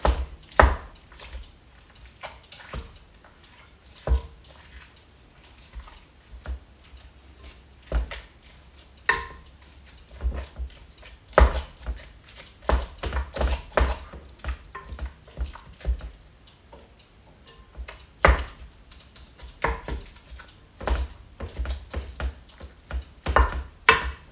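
Ground meat for chili is broken up in a pan with repeated sharp scraping and tapping strokes at an uneven pace, close and fairly loud, with no talking.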